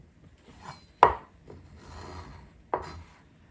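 Fresh chives being chopped with a knife into quarter-inch pieces in a kitchen: two sharp cuts against a board about two seconds apart, with faint scraping between, close and clear, no talk.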